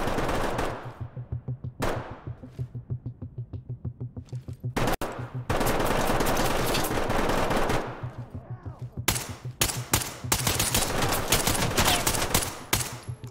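Rapid automatic gunfire from the tactical shooter game Ready or Not, with long sustained bursts and a few sharp single shots, loud and close throughout.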